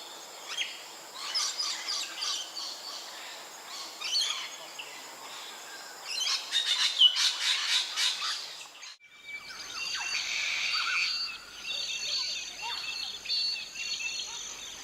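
A magpie-lark gives bursts of sharp, repeated chirping calls, some close and bright, over a constant insect-like buzz. A short lull falls midway before the calling resumes.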